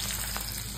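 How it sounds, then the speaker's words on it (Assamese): Onions sizzling steadily in hot fish oil in a pan, a continuous close frying hiss with no talk. "এয়া পিঁয়াজ ভাজি আছো"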